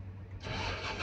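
A machine's engine, repaired after a blown fuse and a faulty diode, cranks and catches in under a second, then settles into a steady, close running roar.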